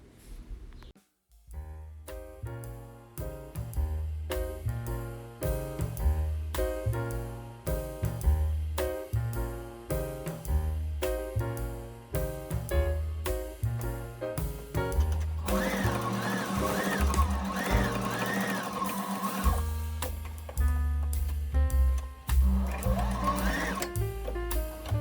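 A sewing machine stitches a fabric square for a shoulder bag, running loud and steady for the whole stretch with a humming, rhythmic mechanical whir and brief changes in pace.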